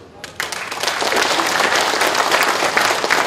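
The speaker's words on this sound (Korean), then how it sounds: "모두 10분께 뜨거운 격려와 성원의 박수를 부탁드립니다" A party convention audience in Chungbuk bursts into loud, dense applause for the candidates, starting abruptly after a brief quiet moment and sustaining a thick, steady roar of clapping.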